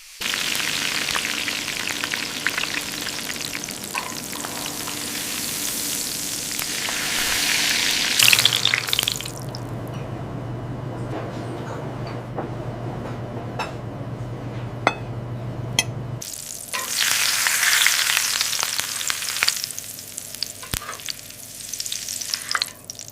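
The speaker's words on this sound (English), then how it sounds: "The close-up shows the skin browning evenly as the fat renders into the pan" Squab skin sears in a pan as its fat renders, a bright crackling sizzle that rises loud, drops to quieter spitting with a low hum in the middle, then flares up loud again.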